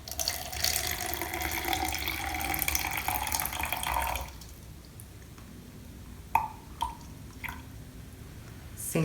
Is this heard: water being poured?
yes